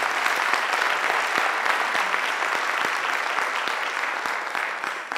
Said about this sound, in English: big round of applause for Hannah